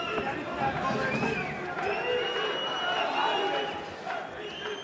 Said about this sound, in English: And the crowd responding to everything that Brahemer does.